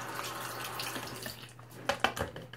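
Water running from a tap while a mess is washed off in a bath, a faint steady splashing flow with a mains hum underneath and a few louder splashes near the end.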